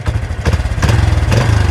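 Suprax 125 motorcycle with a manual clutch and welded double clutch, its engine revved in short blips with a close, loud, rough idle and a clattering ticking in between.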